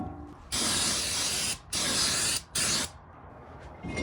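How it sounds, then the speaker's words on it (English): Brake cleaner sprayed from an aerosol can onto a GM brake rotor on a Chevy Colorado during a front brake service: three loud, close bursts of hissing spray, the first two long and the last shorter, separated by brief gaps, with no talk. "So spray down the rotor with brake cleaner to get all the grease and oil off of it."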